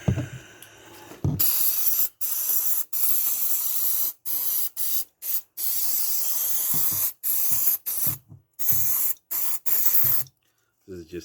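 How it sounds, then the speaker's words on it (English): Contact cleaner sprays from an aerosol can while thermal pads and a heatsink are being replaced on an MSI graphics card, making loud, close hissing bursts that start and stop about a dozen times, some short and some longer. "This is just a contact cleaner. Clean everything cleaner, I call it."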